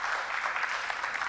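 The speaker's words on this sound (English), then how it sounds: "And another round of applause, I think, as well," A short burst of audience applause at a women in sportstech panel discussion, a dense, even wash of clapping heard from the room.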